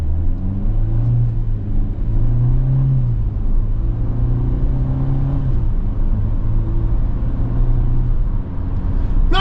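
A 2024 Hyundai Venue SEL accelerates steadily while being shifted manually with the gear lever, its engine drone rising and dropping in pitch through gear changes, with constant road rumble and no talking.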